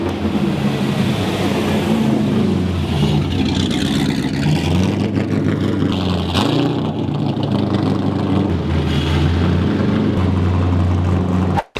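A 450-horsepower car engine revs hard and steadily for the whole stretch, loud and close, with a sustained droning roar and rising and falling pitch that likely carries tire noise, with no talk over it.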